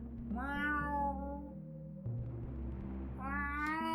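A cat meows in two drawn-out calls, a longer one at the start and another near the end, fairly close with a steady low hum underneath and no talking.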